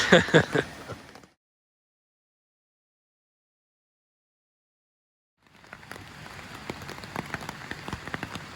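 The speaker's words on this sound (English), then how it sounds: "we are going to bed in the rain. As you can probably hear on the tarp there." Rain patters on a tarp in dense, crackly drops, breaking off into several seconds of silence before the steady pattering resumes.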